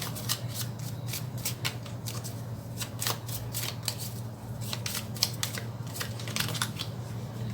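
Tarot cards shuffled by hand, close up, with repeated crisp riffling and flicking bursts over a faint steady hum.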